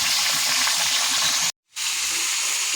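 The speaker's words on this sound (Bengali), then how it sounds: "এখন মাথাটা ভাজা হচ্ছে" A one-kilogram katla fish head frying in a pan, a loud, dense hissing sizzle that runs steadily, cuts out briefly, then carries on.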